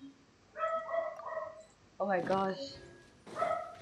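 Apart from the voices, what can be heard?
dogs barking in video game Genshin Impact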